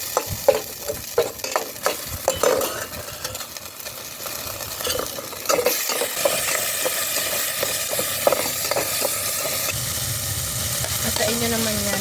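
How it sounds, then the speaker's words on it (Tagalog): Garlic and onion sautéing in a pan for tuna pasta: repeated spatula scrapes and clinks over a loud sizzle that settles into a steadier hiss in the second half. "So, magigisa na tayo ngayon."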